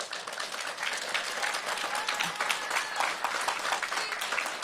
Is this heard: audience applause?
yes